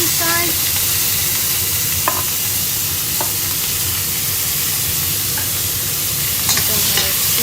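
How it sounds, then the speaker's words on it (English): Chili frying in hot oil: a loud, dense, continuous sizzle with occasional small pops and clinks of stirring, close up and without talk. "Now I'm gonna add the chili inside."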